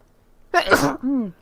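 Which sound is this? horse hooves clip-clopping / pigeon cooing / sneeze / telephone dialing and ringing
sneeze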